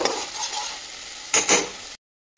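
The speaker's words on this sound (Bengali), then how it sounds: "কিন্তু এখন কষিয়ে নিতে হবে ভালো করে।" Potato and cauliflower being stir-fried with spices in a pan, a soft continuous sizzle broken by two brief scraping stirs of a spoon near the end, then a short silence.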